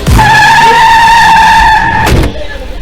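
A police jeep's tires squeal loudly in a sustained high screech as it skids, then stop abruptly with a short thud, leaving only a low rumble.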